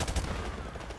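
Rapid automatic gunfire in Call of Duty 4: Modern Warfare Remastered, loud and continuous bursts filling a short second with dense, overlapping shots.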